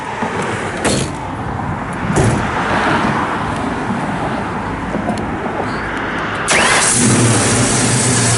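A 1964 Ford Falcon Futura with a four-speed, aluminum intake and Holley carburetor cranks and fires, catching into a loud steady idle, then revving up near the end.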